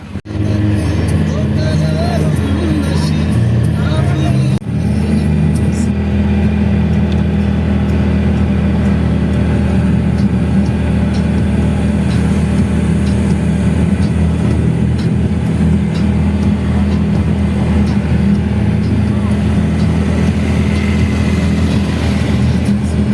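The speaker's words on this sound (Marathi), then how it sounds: "तर आम्ही आता रिक्षामध्ये बसलो." Steady mid-pitched engine drone of an auto-rickshaw carrying passengers along a road in hot weather near Savarde, continuous and close for the whole ride, with a brief jolt early on and faint voices in the background.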